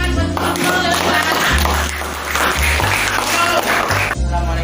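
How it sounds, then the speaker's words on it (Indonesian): Students applauding in a chemistry class during an electrolyte conductivity lab, loud clapping mixed with a steady tone and some background voices. "Oke, kita kasih tepuk tangan buat elektrolit."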